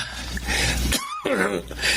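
A single harsh cough from a person with a lingering illness, close and loud, cutting through a low hum, followed by a brief throat-clearing sound.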